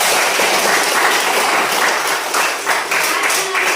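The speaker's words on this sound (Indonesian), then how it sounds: "Tepuk tangan." Students in a class clap their hands in a loud, close, busy round of applause that continues steadily, with individual claps audible in the mix.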